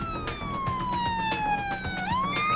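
Ambulance siren from the Emergency 4 video game, a steady wail sliding slowly downward then jumping back up near the end, loud and continuous over a low rumbling background with no talk.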